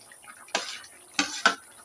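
Okra is added to a cooking pot, giving three short bursts of clattering and rustling with brief soft knocks against the pot, close and quiet between the bursts.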